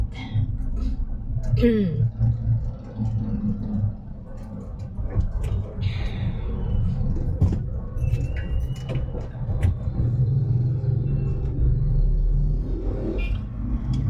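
Steady road traffic rumbles throughout, with car engines passing close by and occasional higher clatter, under constant mixed talk.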